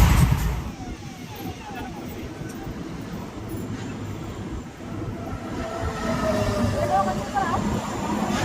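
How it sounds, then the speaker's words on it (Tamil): Andaman Express passenger train rolling slowly along the track, heard from on board as a steady low rumble and rattle of the carriages, with a voice talking over it. "அதனால நம்ம வண்டி இப்போ ஸ்லோவாக தான் போயிட்டு இருக்கு."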